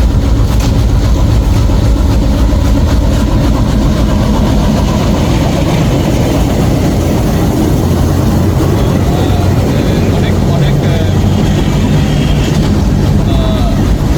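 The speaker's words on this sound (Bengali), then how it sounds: "ছোট্ট সাইজের ট্রেনগুলো খুব ধীরে ধীরে যায়" A small train moves slowly on rails through green countryside, making a loud, continuous engine rumble and rolling noise for the whole stretch, with a voice briefly heard over it.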